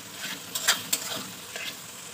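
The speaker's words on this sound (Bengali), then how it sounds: "তো দেখতে পাচ্ছেন আমি টমেটো আর পেঁয়াজটা ভালো করে মিশিয়ে দিয়েছি তেলে ফেলে।" Chopped tomato and onion fry in oil in a pan, giving a soft, even sizzle with a few quick scrapes from a stirring utensil.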